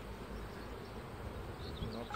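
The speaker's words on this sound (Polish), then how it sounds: "pszczoły nerwowe" Agitated honey bees at an opened hive hum in a steady, dense low drone, close and continuous, with a few higher whining passes near the end and no talking.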